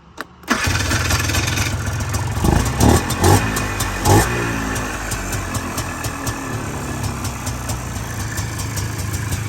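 A Polaris Trailblazer ATV engine with a freshly cleaned carburetor cranks and catches, sputters through a few uneven revs, then settles into a steady close idle with no talking.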